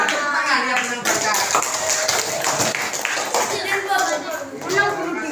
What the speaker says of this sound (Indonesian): Kamu iya, tepuk tangan yang menang Barca.